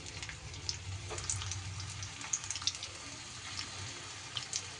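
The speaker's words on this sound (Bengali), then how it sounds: "তেল গরম হলে এইবার ঝিঙেগুলো দিয়ে কিন্তু ভেজে নিতে হবে।" Pieces of ridge gourd fry in roughly four or five spoons of hot oil, a soft, steady bubbling sizzle with faint scattered pops, fairly quiet and without talk.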